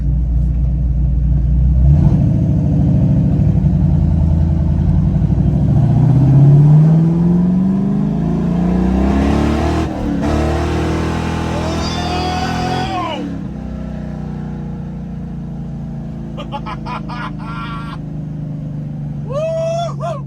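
A 1964 Chevrolet Chevelle Malibu engine revs hard and loud up close, rising and falling through several throttle blips before settling toward idle, with brief talk near the end.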